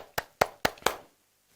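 Four crisp hand claps in an even rhythm, close and fairly loud, then silence; clapping for camp teachers and pastors at a children's Adventurer camporee closing event.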